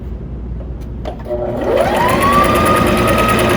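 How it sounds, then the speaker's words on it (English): Sewing machine running steadily as it stitches a half-inch seam on a four-ply pleated cloth face mask, a continuous close whirring hum that starts after a brief pause and holds at even speed. "I'm going to sew again 1/2 inch seam."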